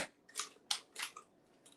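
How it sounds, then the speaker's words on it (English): Kitchen shears snipping through the backbone of a raw turkey being spatchcocked, several crisp close cuts in quick irregular succession, fairly quiet with no talk. "we're going to spatchcock our turkey, which means I'm going to cut the backbone out of it"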